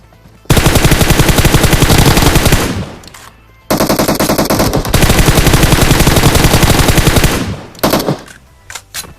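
Automatic gunfire sprays in long rapid bursts during a battle royale video game fight, loud and close, with a short pause between the two main bursts and a few scattered shots at the end.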